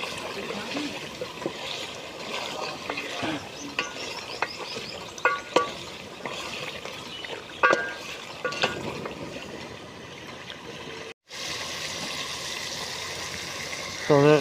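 Dal gosht of meat, onion and tomato being stirred in a pot, with scraping, soft sizzling and wet bubbling, occasional clinks of a spoon against the pot, and a brief gap before the cooking noise resumes.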